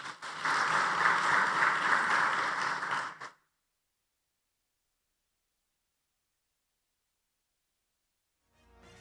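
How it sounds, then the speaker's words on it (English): Audience applause for a session moderator at a university research week panel, a dense burst of clapping for about three seconds that stops abruptly, followed by near silence. "A clap for him."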